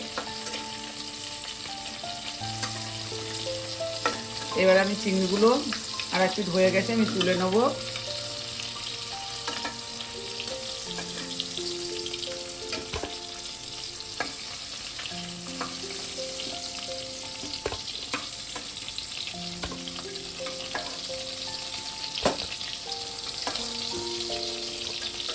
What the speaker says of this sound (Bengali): যেহেতু চিংড়ি বেশি ভাজা ভাজবো না হালকা করেই ভাজবো